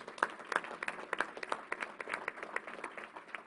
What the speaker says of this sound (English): Let's give him a round of applause.